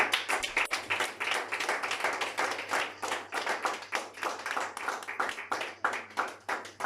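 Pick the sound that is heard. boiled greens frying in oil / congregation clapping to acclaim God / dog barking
congregation clapping to acclaim God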